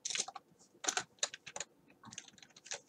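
Computer keyboard keys and mouse buttons click in quick, uneven bursts, close and crisp, while text is copied and pasted during coding work.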